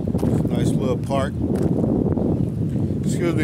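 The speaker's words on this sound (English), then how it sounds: "Excuse me if y'all can't hear me because it's kind of windy" Gusty wind buffets the microphone with low rumbling under a person talking outdoors in a park.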